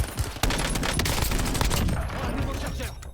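Dense, loud gunfire in the video game Warzone, a rapid, close barrage of overlapping shots that runs almost continuously and trails off at the end.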